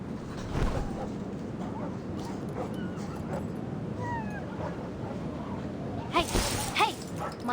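A dog in the video game Reverse: 1999 whimpers in short, high, rising whines that come several times over a busy game backdrop, with a louder burst of whining near the end.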